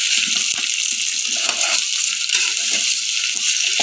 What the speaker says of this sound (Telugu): ఇది బాగా ఫ్రై అవ్వాలి ఫ్రెండ్స్.